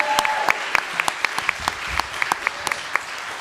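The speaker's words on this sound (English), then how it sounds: "Can we please give Sophie a massive round of applause?" Audience applause for a competitor at a youth entrepreneurship grand final, with sparse, distinct claps that ring out individually rather than forming a dense roar, lasting a few seconds.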